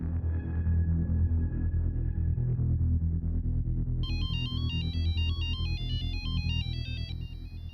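A phone ringtone plays late at night, starting as a low droning tone and then switching to a loud, bright electronic melody that repeats in a quick pattern over a steady low hum.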